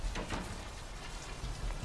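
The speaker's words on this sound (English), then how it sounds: "You can hear it raining in the background," Steady rain patters continuously in the video game Vampire: The Masquerade – Bloodlines, a soft, even hiss of falling drops with faint low rumbling beneath and no voices.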